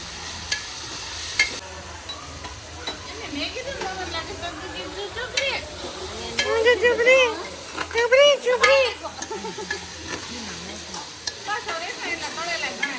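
Potatoes fry in hot oil in a pan for a potato curry, a soft sizzle with occasional stirring clatter beneath voices talking close by.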